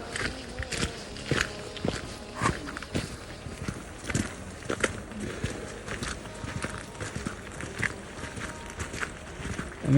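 Footsteps walk along the Hooker Valley Track in an even, close, crunching rhythm for the whole stretch, with little else around them.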